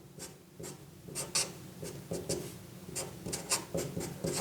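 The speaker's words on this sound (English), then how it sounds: "So let me write that." Pen writing on paper while a chemistry reaction mechanism is worked out, with steady scratchy strokes and short taps at a close, quiet level and no talking.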